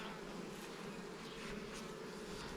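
Honey bees buzz steadily around an opened hive during a Ukrainian beekeeper's inspection, a faint, even, continuous hum with no voices over it.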